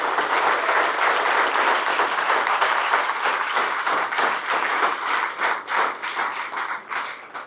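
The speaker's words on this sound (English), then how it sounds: "If anything deserves a round of applause," Warm applause from a fundraising reception audience, steady dense clapping that thins into scattered, separate claps toward the end.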